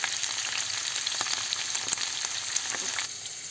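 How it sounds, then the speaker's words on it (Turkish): Onions added to a frying pan sizzle loudly and continuously with crackling pops, close up, with no voices. "Evet, şimdi soğanlarımızı ilave ediyoruz."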